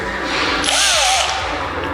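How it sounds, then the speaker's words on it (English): An electric screwdriver set to 7 Nm tightens a screw on a DIY LiFePO4 battery case, a short, close whirring burst lasting about a second. "I'm gonna use an electric screwdriver and set the torque index as 7 Newton meters"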